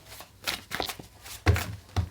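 Tarot cards are shuffled and drawn by hand, producing several close, crisp riffling and slapping bursts in an uneven rhythm, with no speech.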